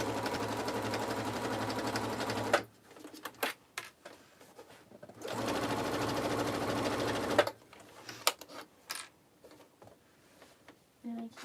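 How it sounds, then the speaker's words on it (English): Sewing machine stitching a tote bag: two steady humming runs of several seconds each, separated by a quieter gap of small handling clicks and taps, close up and fairly loud. "And I'm just going to stitch along that."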